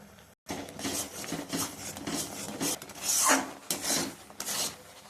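Dry rice flour scraped and stirred in a pan with sugar and cardamom for Bengali bel naru, a steady run of close raspy strokes with a brief pause near the start.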